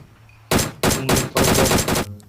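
Gunfire in the video game PUBG Mobile: loud rapid automatic bursts, four close clusters of shots in quick succession, with no talking.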